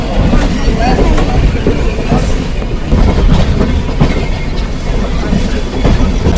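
A 14681 Jalandhar Express train approaching a station, heard as steady, loud rumbling rail noise with faint wheel clatter and a murmur of people in the background.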